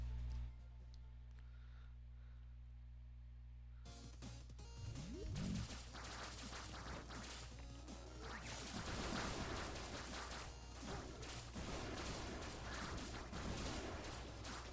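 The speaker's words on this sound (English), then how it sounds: "these guys are all tons of explosions" Explosions in the video game 20XX arrive after a quiet start: a dense, continuous barrage of booms and crashes that goes on for about eleven seconds, with no speech over it.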